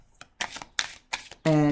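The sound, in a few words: shuffling tarot cards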